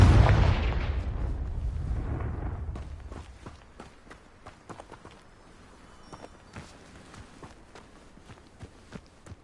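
Confringo blasting spell explodes in Hogwarts Legacy with a loud booming burst that decays over a couple of seconds, followed by quiet scattered footsteps and small impacts.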